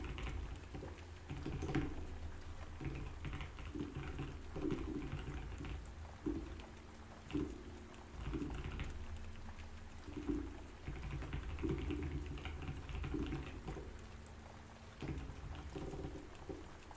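Soothing rain and thunder recording plays softly in the background while keyboard typing clicks in irregular bursts up close, steady patter underneath with low rumbles.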